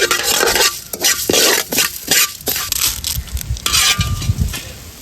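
Coriander seeds, cumin and urad dal fry in oil in a kadai, with a steady close sizzle and repeated scraping, stirring strokes of a spatula against the metal pan, no talking.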